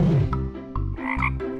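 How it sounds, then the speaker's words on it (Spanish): A frog croaks loudly and close up in a forest setting, giving a series of deep, resonant, throaty croaks in quick succession with no talk over them. "Las ranas son anfibios conocidos por sus habilidades para saltar, croar, por tener ojos saltones y piel viscosa."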